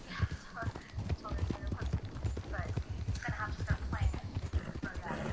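Horse hooves clip-clop steadily in Red Dead Redemption 2, the game's horse trotting at a regular rhythm up close, heard beneath continuous talking and some game sounds.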